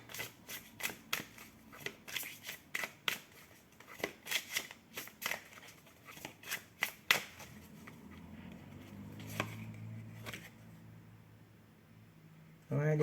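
Tarot cards being shuffled and drawn by hand: a quick run of crisp, papery flicks and snaps, close and fairly quiet, thinning out toward the end before a soft rustle.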